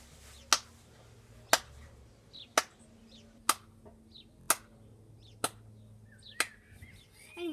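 Slow, evenly spaced single claps imitating a Fortnite slow-clap emote: seven crisp, sharp smacks about one second apart, close and clear with no talking over them.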